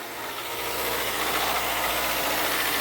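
A 2011 Toyota Avanza engine runs steadily with a close, even broadband roar and no talking, still being worked on and lacking its radiator.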